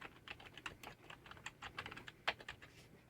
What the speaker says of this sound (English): you can go to Search menu on the bottom left, type in Control Panel.